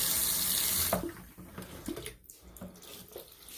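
Water gushes loudly from taps cracked open on a hot water tank's hose for about a second, then cuts off, leaving faint drips and light knocks.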